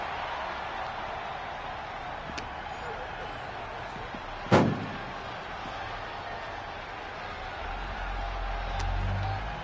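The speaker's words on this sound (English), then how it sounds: "Opening those doors." Doors are opened in the WWE 2K25 wrestling video game near a parking lot. A single sharp, loud slam lands midway through a quiet stretch of steady game ambience.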